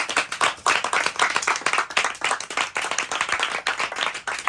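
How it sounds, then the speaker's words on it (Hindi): Steady clapping from a small group of people, dense and continuous, filling the whole stretch without talk over it. "तालियां बनती हैं मुझे।"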